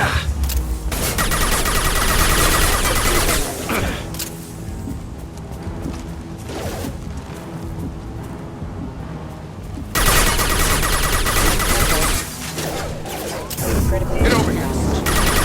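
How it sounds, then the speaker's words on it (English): Sustained gunfire and explosive booms from the video game Mass Effect 2, loud and dense throughout with a brief lull in the middle, mixed with game sounds and occasional shouted voices. "Taking fire!"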